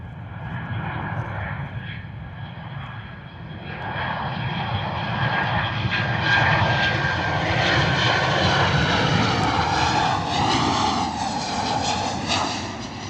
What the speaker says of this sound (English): Another Ryanair coming in.